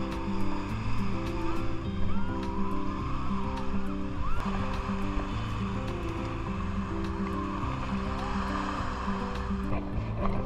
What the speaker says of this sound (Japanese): ホテル内のニライビーチに行ってみましょう。